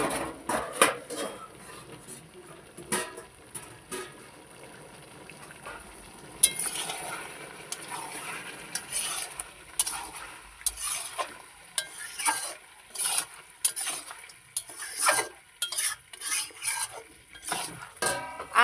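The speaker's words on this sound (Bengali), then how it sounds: "এবার একটু নেড়ে দেবে।" Masala-coated chicken pieces are stirred in a pan: irregular scraping and clattering strokes over a quiet background sizzle and a faint high whine, with no talking.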